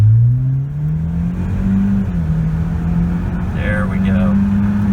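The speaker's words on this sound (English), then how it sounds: "We'll do a standing acceleration here." A 2018 Ford Escape EcoBoost with a hi-flow exhaust pulls away from a standstill, a steady engine drone rising in pitch through the gears as it accelerates, heard from inside the cabin.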